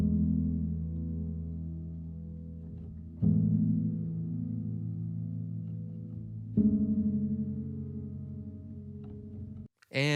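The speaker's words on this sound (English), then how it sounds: "So that scratch piano, which turned into the final piano, kind of all together sounds like this" Acoustic piano recorded in stereo with Coles 4038, Neumann KM 184 and Shure KSM 44 microphones, for a sad acoustic pop cover, playing sustained soft chords that change twice, close and alone, fading before a short break.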